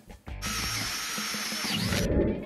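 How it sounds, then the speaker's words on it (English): A power drill whines at high speed, pre-drilling holes in metal sheeting for a pole barn workshop, as one continuous, loud, close burst about two seconds long that ends in a grinding bite. "If you want your screws to be super straight and save a ton of time, pre-drill your holes."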